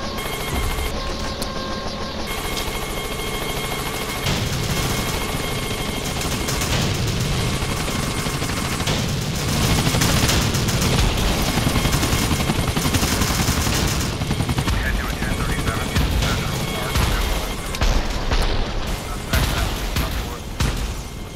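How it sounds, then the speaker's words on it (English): Rapid bursts of gunfire crackle against the thrum of helicopters during a GTA San Andreas chopper shootout, dense and continuous throughout, with voices talking over the action. "Two agency choppers coming in on an intercept. Can you see them? Yeah. Shoot them down!"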